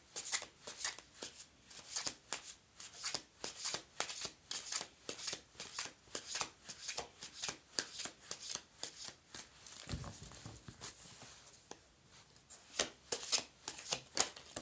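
A deck of cards shuffled repeatedly up close, with a steady rhythm of quick riffling and flapping bursts and a brief thump partway through, with no talking.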